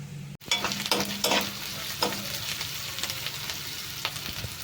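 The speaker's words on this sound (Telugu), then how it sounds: "ఉల్లిపాయలు వేగినాయి కదా" Onions frying in a pan sizzle steadily nearby, with a few stirring scrapes and crackles after a brief sharp cut at the start.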